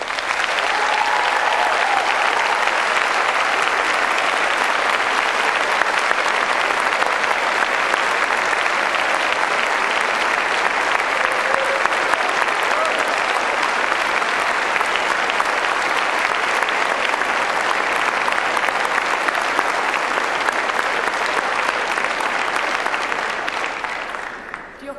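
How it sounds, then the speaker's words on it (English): A large crowd of graduates at a university graduation ceremony in Cardiff gives a loud, sustained round of applause for their families, dense and steady for about twenty-four seconds before tapering at the end. "giving them a warm and enthusiastic round of applause"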